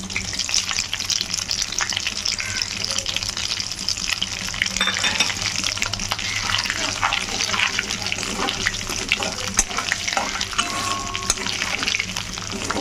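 Whole cloves, cinnamon and mace fry in hot oil in a home kitchen, giving a continuous loud sizzle with crackles and occasional stirring scrapes throughout.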